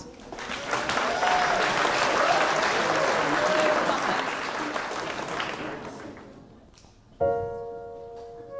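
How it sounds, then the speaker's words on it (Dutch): Audience applause at a school variety evening, dense sustained clapping from a hall crowd that fades out, followed by the start of a backing beat with a voice. "Geef hem alvast een applaus"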